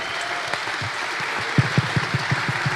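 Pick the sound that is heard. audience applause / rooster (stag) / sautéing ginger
audience applause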